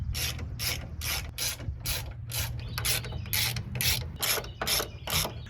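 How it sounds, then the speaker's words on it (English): A hand ratchet tightens bolts on Jeep Wrangler YJ rear suspension, with about a dozen rapid clicking bursts repeated in an even rhythm, close and clear, with no talking. "I'm gonna run around and torque everything to spec."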